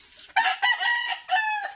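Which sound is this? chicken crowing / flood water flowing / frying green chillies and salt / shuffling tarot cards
chicken crowing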